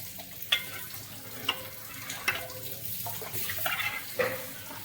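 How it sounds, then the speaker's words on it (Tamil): Colostrum milk being stirred in a pan over heat, with soft scraping strokes and gentle sizzling bubbles in a quiet, close kitchen. "நாங்கள் அதே மாதிரி நான் வச்சு சட்டியில் வச்சு கிண்டிகிட்ருக்கேன்"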